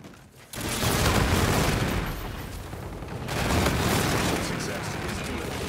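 A frag grenade detonates in the shooter Call of Duty: Infinite Warfare, a sudden loud blast after a brief quiet moment, followed by sustained rumbling battle noise and a second surge of explosive gunfire.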